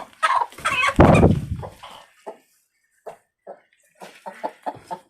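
Chickens in a backyard coop squawk loudly up close at first, then settle into scattered short clucks spaced over several seconds.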